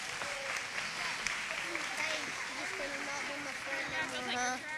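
Applause for a group of children at a church service, a steady wash of clapping through the whole stretch with people talking and calling out over it.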